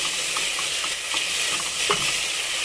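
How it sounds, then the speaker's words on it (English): Tomatoes sizzling and frying steadily in a pan on a Kenyan home stove, a continuous close hiss with faint stirring clicks and no talking. "Then we allow the tomatoes to cook."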